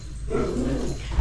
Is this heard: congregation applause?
no